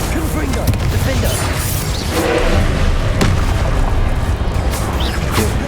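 Confringo spell blasts in Hogwarts Legacy burst with booming impacts amid dense combat noise, thumps and clatter, loud and continuous, with voices over the top.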